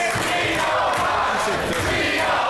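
A wrestling crowd packed into an Elks Lodge roars steadily behind Lio Rush during a House of Glory title match, a dense, continuous wash of cheering and shouting from many voices that holds at a constant loudness throughout.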